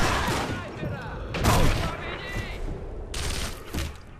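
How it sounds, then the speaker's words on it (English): Gunfire in the video game Sniper Elite V2, a burst of shots with a heavier blast near the middle and another volley later, loud and mixed with game sounds. "how are they shooting me?"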